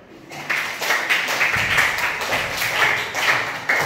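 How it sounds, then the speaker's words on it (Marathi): First-grade schoolchildren in a classroom clap for themselves, a dense, fairly loud patter of many small hands lasting nearly four seconds with a slightly pulsing rhythm. "सगळ्यांनी स्वतःसाठी टाळ वाजत आहे"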